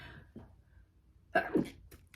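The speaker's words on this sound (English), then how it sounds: "I'm going to sneeze" A single close, sharp sneeze with a quick intake of breath before it, followed by a brief wet burst, alone in a quiet room.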